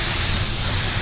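A sealer spray gun with a 1.3 tip, running at 30 psi, gives a steady, close, loud hiss of air and spray that continues without a break.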